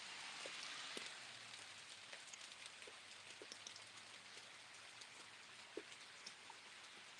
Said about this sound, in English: It's raining cats and dogs out here.